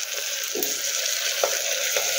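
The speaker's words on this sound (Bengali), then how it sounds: "একটু ফ্লেমটা বাড়িয়ে দিয়ে আমি 2 মিনিট একটু কড়াইশুঁটিটাকে আমি একটু ভেজে নেব" Fresh green peas fry in a wok over a raised flame, giving a steady close sizzle broken by a few soft stirring knocks, with no talking.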